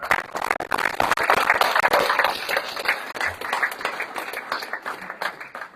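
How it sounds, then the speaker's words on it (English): An audience claps steadily in a recovery meeting, dense and sustained at first, then gradually thinning and fading out. "Don't clap for me"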